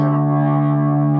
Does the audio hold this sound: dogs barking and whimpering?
no